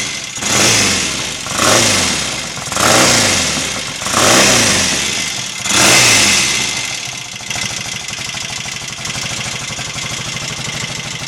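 A parked Royal Enfield Interceptor MK1 motorcycle engine revs up four times in a rhythmic pattern, then settles into a steady loud idle close by, with no voices.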